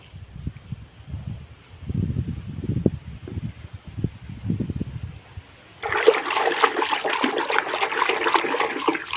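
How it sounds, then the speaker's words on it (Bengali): Surf detergent stirred by hand into water in a bucket, heard as several close, low sloshing swirls, followed by a sudden, sustained, brighter rush of splashing water. "সার্ফটা আগে গুলিয়ে নিই"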